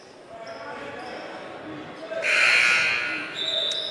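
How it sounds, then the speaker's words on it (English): An official scorer's buzzer blares for about a second during a basketball game, cutting loudly through gym noise, ball bounces and commentator talk. "we're getting the buzzer from the official scorer"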